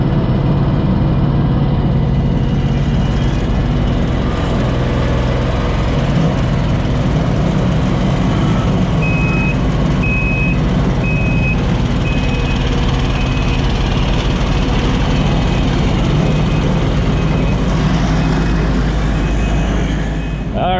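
A compactor roller works over stone backfill beside garage concrete footings and walls, a steady, loud, low engine drone with continuous rumble and no pauses across the whole stretch.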